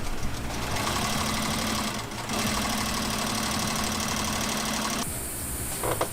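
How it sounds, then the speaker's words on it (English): A sewing machine stitches two fabric pieces together, running loud and steady with a continuous mechanical whir, briefly easing off mid-run and changing pitch near the end. "I'm gonna start sewing them together."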